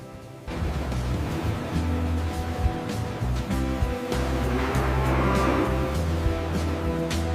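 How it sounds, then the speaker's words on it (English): A cow on a leather factory farm moos in a few drawn-out, low calls that stand out over steady machinery or vehicle rumble. "You're a good cow."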